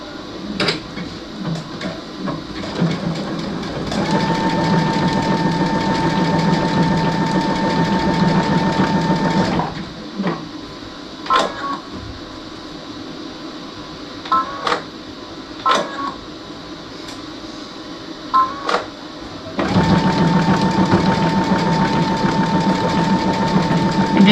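A sewing machine runs a zigzag stitch on an egg covered in seashells, with a steady mechanical whirr in two long loud bursts and a few short isolated taps between them.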